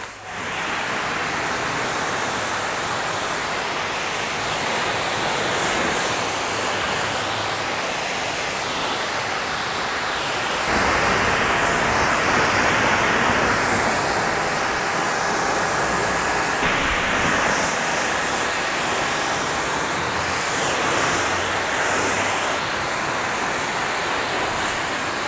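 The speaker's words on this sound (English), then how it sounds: "now we're gonna rinse this stuff off" Water sprays over a car during a rinse before a contact wash, making a steady loud rushing hiss that shifts in tone partway through as the spray moves, with no talking.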